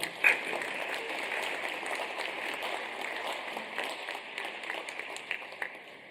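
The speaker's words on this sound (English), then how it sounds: "Let's give them a round of applause." Applause for a school band, choir and cheerleaders at a state-of-the-schools event, a soft, roomy patter of many hands clapping steadily with a few louder claps near the end, heard from some distance.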